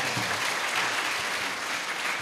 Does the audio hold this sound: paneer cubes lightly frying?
no